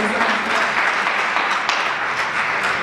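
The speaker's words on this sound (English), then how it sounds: "Give a hand of a round of applause, guys." A round of applause fills a Youth Day 2018 event hall, steady crowd clapping throughout, dense and even at moderate loudness.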